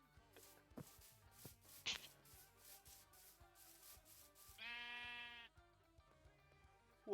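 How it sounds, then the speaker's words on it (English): Sheep bleat in a Minecraft-style survival game, a couple of short wavering cries heard over scraping, rubbing footstep and block sounds, the clearest bleat about a second long and fairly close. "Sheep. Be gone, foul beast."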